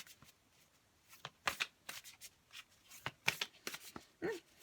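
Tarot and oracle cards being shuffled and drawn in a series of short papery riffles and slaps, close and fairly quiet, with no talking.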